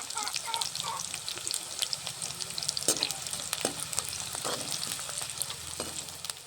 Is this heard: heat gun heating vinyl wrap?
no